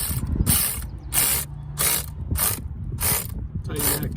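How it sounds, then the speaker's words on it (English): A ratchet clicks in seven quick bursts while tightening a car battery terminal nut, close and crisp, with short pauses between strokes. "And then we'll come in and we'll tighten the battery terminal on the"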